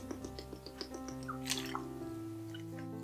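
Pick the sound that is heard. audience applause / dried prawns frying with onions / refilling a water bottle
refilling a water bottle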